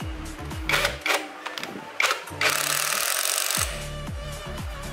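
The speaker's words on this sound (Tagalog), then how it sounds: "Pero since kaya ko naman baklasin, gagamit na lang akong impact." An impact wrench hammers at the magneto nut of a Yamaha Mio motorcycle during a stator swap, firing in short bursts and one longer rattling run, close and loud, alongside clanks of tools and parts.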